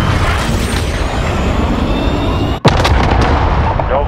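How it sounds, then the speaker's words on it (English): Call of Duty: Modern Warfare cruise missile strike: a loud, sustained rumbling roar of the missile, cut by a sudden sharp explosion blast and crackling debris afterward, with no talk. "Cruise missile, go for launch."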